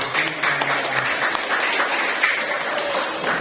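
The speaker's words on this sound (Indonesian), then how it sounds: "Sebagai apresiasi kita beri aplaus yang" Classroom applause for a presenting group, steady dense clapping from many hands that carries on throughout, close and fairly loud.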